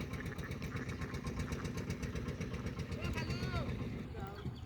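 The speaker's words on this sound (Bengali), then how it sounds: "এই সে আসতেছে নৌকা" A ferry motorboat engine on the Atrai River, Naogaon, Bangladesh, chugs steadily with a rhythmic low throb, while someone talks over it; the motor sounds fairly close.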